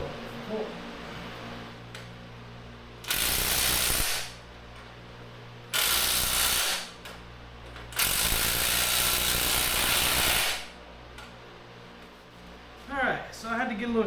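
A ratchet wrench tightens engine-to-transmission bolts in several bursts of rapid clicking, each lasting a second or two, up close in a quiet workshop with a brief voice near the end.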